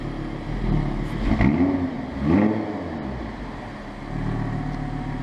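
Audi R8 LMX engine and exhaust revving in sport mode, two sharp rising blips standing out over a low idling rumble, close and strong, no talk.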